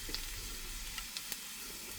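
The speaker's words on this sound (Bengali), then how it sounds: "পেঁয়াজ, শুকনা মরিচ আলাদা করে তেলে ভেজে নিচ্ছি।" Onion and dried chili frying in oil in a pan, a soft steady sizzle with a few faint crackles and pops, quiet and close, no talking.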